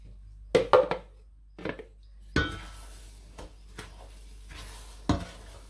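A spoon scrapes and knocks against a pot of tamarind dipping sauce in a few scattered strokes, with faint clinks between them and a quiet background hum.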